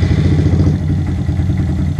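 A warm Honda Grom motorcycle engine that hesitates and stalls in damp weather, heard idling with a steady, close, rough low rumble and faint clatter, and no voices.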